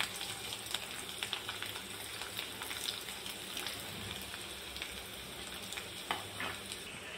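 Garlic, ginger and green chillies sauté for pumpkin bhaji in a pan, a soft continuous crackling sizzle with scattered small pops and light stirring, close but quiet and without speech.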